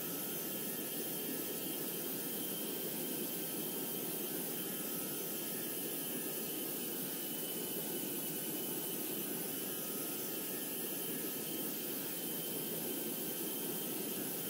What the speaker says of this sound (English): the aircraft will now climb